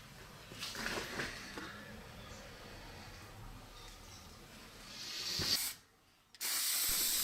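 A spray can hisses as clear coat lacquer is misted onto a restored axe, a steady close hiss with short louder bursts that breaks off briefly, then resumes as a strong continuous spray.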